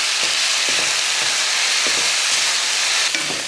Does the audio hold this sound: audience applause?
no